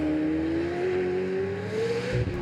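A McLaren 750S sports car cruising on a public road at about 40 to 50 km/h, its engine droning and gradually rising in pitch as it gently accelerates, steady and close from inside the cabin.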